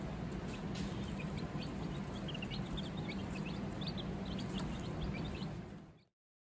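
A flock of hungry backyard chickens in a city coop clucks softly at feeding time, with scattered short calls over a steady background hiss.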